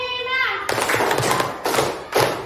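Primary-school pupils in a classroom clap the 'tepuk 5' pattern together after a short sung or called-out tone, with three loud clustered bursts of group clapping.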